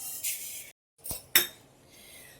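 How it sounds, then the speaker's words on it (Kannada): Roasted cumin tipped from a pan into another bowl, with a few sharp metallic clinks of utensils, then a short gap and two more distinct clinks, close and fairly quiet. "ಈಗ ಇದನ್ನು ಬೇರೆ ಬೇಸನಿಗೆ ಹಾಕೋತಾ ಇದ್ದೀನಿ"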